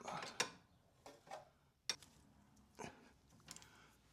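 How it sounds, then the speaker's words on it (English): A ratchet tightens the ball joint bolt on a Jaguar XK8 lower suspension arm. It gives several short, quiet, spaced clicking strokes with pauses between them in a calm workshop, and no one talks. "Let's just nip up the ball joint bolt."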